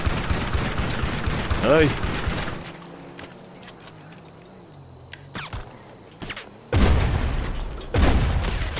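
Rapid bursts of gunfire crack out during a shootout in Grand Theft Auto's Los Santos, loud volleys at the start and again near the end with a quieter stretch of scattered shots between, and a voice briefly exclaiming in the middle.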